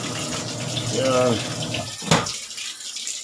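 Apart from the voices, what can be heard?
water running from a tap for laundry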